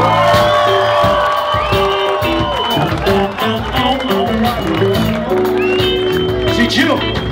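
Crowd cheers, whoops and claps for a rap duo at a freestyle rap show, loud and continuous over steady music with tonal bass lines throughout.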